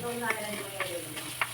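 Sliced onions sautéing in a pan for a Kerala-style fish curry, a steady soft sizzle broken by a few short scrapes of a stirring spoon, close and fairly quiet.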